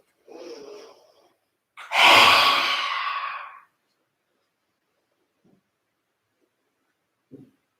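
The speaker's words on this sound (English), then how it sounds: "do your lion's breath here for a few times" A forceful lion's breath exhale during a yin yoga session comes as one loud, breathy rush lasting well over a second. A softer breath precedes it, and faint small sounds follow in otherwise quiet surroundings.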